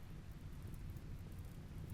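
Rain falls in the video game Rimworld, heard as a quiet, steady, low hiss that continues without a break.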